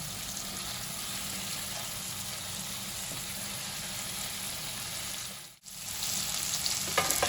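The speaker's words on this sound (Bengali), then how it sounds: "পনিরটাকে হালকা করে এবার ভেজে নিই।" Paneer cubes lightly fry in a pan with a touch of turmeric and dried red chilli powder, giving a steady, close sizzle that dips briefly near the end before crackling back up.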